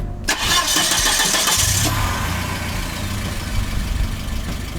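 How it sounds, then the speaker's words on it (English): A Volvo 940's red block engine cranks and fires up, then settles into a steady, rumbling idle close by. "this car has the legendary red block engine"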